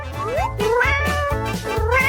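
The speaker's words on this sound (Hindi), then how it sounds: "हमें बिल्ली के बारे में भूलना नहीं चाहिए" A cat gives several loud, close meows in quick succession, drawn-out and rising and falling, with no talking over them.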